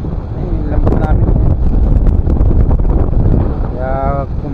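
Strong wind roars steadily across the microphone on a fishing boat at sea. Heavy buffeting rumble fills the whole stretch, with a voice briefly audible near the end.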